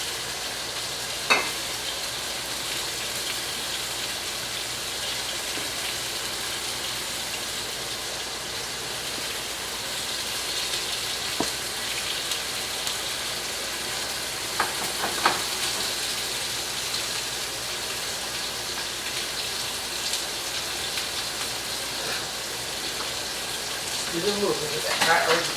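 Steak searing in an oiled pan under an oil guard, giving a steady, even sizzle throughout with occasional small pops and spatters, and a voice speaking briefly in the background.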